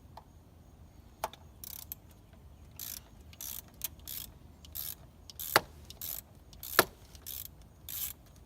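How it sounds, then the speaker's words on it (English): Ratchet clicking in short bursts while loosening a thermostat housing bolt on a Mitsubishi 3000GT, with a few sharp metallic clinks between strokes in a quiet garage. "Let's just try taking off the thermostat housing."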